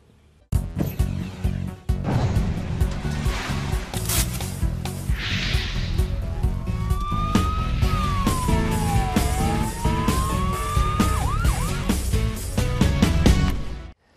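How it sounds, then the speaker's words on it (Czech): A yellow ambulance siren wails in a sweeping up-and-down tone over loud, busy background noise and engine rumble, steady and fairly close throughout. "abychom vás potom nemuseli vozit v těchto krásných žlutých sanitkách"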